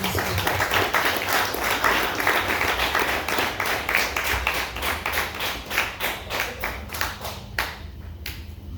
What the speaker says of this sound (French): Let's clap for this word.